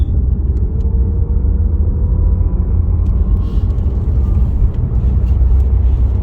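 Loud, steady electric drivetrain rumble and road noise from a 640 hp Audi RS e-tron GT four-door accelerating on a track, continuous and close with a faint rising whine.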